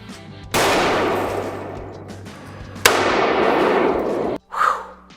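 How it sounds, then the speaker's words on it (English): Two loud bursts of broadband blast and rushing noise from a can cannon firing a soda can through a broken van window, each followed by sustained rumble, then a short clank at the end. "I'm gonna see if I can shoot the soda can through it now that it's all broken."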